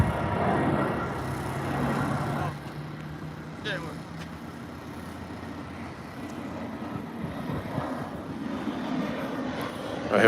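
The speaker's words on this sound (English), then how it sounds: "the plane is almost like just comes just right over the top here." A low-flying airplane passes overhead in Washington DC, its engine roar a broad rumble spread across the whole stretch, steady and moderately loud, with street noise and someone talking now and then beneath it.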